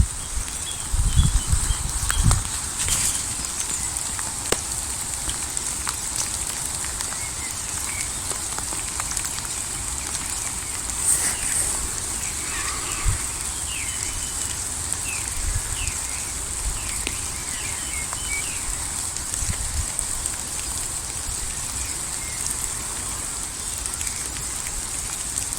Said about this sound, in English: Middle of May, raining all day.